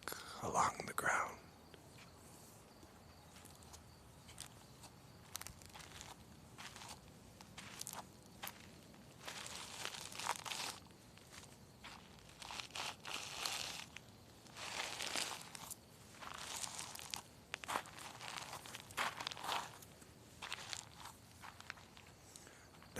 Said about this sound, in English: The first thing we're gonna hear is the crunching sound of rocks as I walk along the ground.